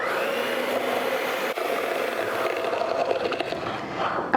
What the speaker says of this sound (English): Now I'm gonna mix this with my hand mixer.